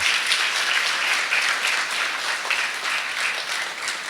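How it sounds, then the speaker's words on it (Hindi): A crowd applauds steadily, many hands clapping together in a sustained wash of sound that holds for several seconds. "कम से कम तालियां बजाकर इस बच्ची का उत्साह बढ़ाएं"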